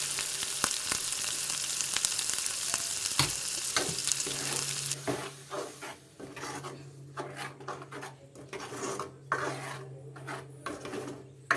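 Ground masala sizzles and fries in a pan for a paneer dish, a loud close hiss at first that soon eases into softer frying with scraping stir strokes against the pan.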